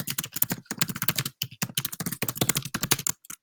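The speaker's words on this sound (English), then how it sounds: "So let me type mine in." Rapid typing on a computer keyboard, a dense run of close, crisp key clicks with brief pauses, loud and alone with no talking.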